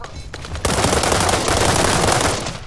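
Sustained automatic fire from an M416 assault rifle in the World War 3 shooter game, a dense, loud rattling burst that kicks in after a brief quieter lead-in and runs steadily for a couple of seconds.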